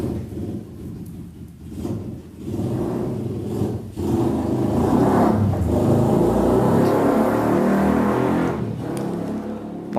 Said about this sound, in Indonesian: Mohon dipersori kalau ada suara-suara motor ya, dimaklumi aja lah ya.